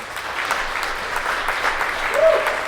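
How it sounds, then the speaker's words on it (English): Steady applause from an audience, a dense wash of clapping that holds at an even level throughout. "can we have a round of applause for everybody here?"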